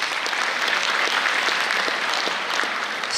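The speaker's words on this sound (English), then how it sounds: "A big round of applause to all of us." Sustained audience applause fills a graduation ceremony hall at Father Muller Convention Center, dense and steady clapping from a large crowd throughout, with no voices standing out.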